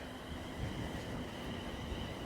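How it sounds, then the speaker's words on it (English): A steady, low rumbling roar of a train rolling into Prestwick station, continuous and fairly distant, with a faint constant tone above the broadband noise. "As another train rolls into Prestwick"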